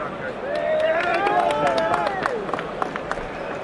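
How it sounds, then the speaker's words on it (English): Crowd at a Grzegorz Proksa vs Kerry Hope boxing match applauds with a steady rush of clapping and cheering under a commentator's voice, sharper claps standing out near the end. "He deserves that applause"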